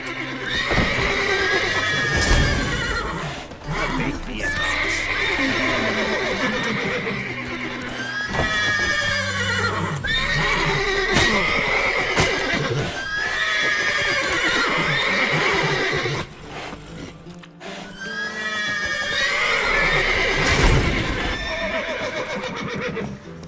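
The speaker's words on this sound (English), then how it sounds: "Gotta calm all the horses before they wake the guards." Horses in The Witcher 3: Wild Hunt whinny over and over, loud and shrill, with shuffling hooves and stamping between calls, the neighs coming in repeated bursts throughout.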